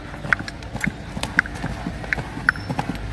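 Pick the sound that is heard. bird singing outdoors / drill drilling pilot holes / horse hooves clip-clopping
horse hooves clip-clopping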